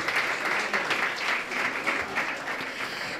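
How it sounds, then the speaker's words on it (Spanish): A flamenco audience at a concert-series presentation in Pozoblanco breaks into dense, continuous applause, the clapping sustained and fairly distant across the hall. "También pueden aplaudir ustedes sin ningún tipo de problema."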